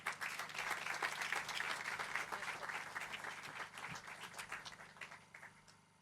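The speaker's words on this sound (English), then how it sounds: "We'll give them another round of applause." Crowd applause at a Louisville housing authority groundbreaking ceremony, sustained clapping from a gathered audience, moderately distant, that holds steady and then gradually fades out toward the end.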